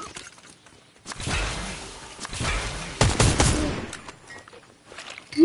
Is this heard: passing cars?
no